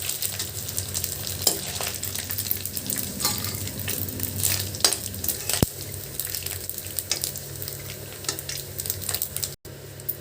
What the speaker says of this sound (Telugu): ఇప్పుడు మెల్లగా కలబెట్టుకుంటే వేగాలండి, ఇంకొక 2 నిమిషాలు వేగాలి.